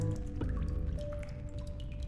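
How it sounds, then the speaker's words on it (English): Hot water running through a pipe in the video game The Darkside Detective, heard as gurgling drips and squishy liquid pops over a low steady hum, close and fairly quiet. "Plenty of hot water running through the pipe."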